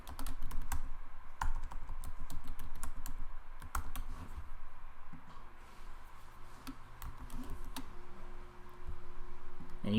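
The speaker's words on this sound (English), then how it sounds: "and then I would type in the answer." Steady, rapid typing on a computer keyboard, close and clear, with uneven bursts of key clicks running throughout and no voices.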